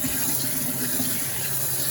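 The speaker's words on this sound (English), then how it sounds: "So we're just rinsing them and then adding them like this to the pan." Tap water runs steadily over shrimp being rinsed in a kitchen, a close, continuous splashing hiss with no pauses.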